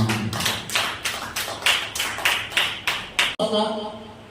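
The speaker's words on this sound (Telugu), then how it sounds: "గట్టిగా చప్పట్లు కొడుతుంది." A church congregation clapping loudly during a Sunday service, with roughly a dozen strong, evenly spaced claps and a sharp thud before the clapping gives way to a quieter room and faint voices.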